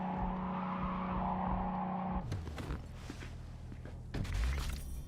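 A car driving in Cyberpunk 2077, with a steady engine hum that breaks into rough rumbling, scraping and bumping as it moves over uneven ground, close and moderately loud.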